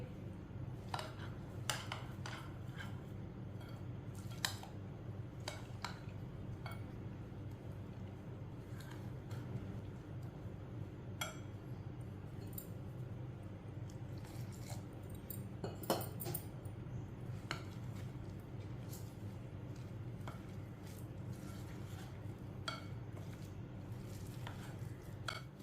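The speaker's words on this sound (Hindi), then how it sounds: "अच्छी तरह मिक्स कर लेंगे" Pakora batter of spices and water being stirred in a bowl, a steady soft scraping and clinking of spoon against the bowl that continues throughout, with occasional sharper taps.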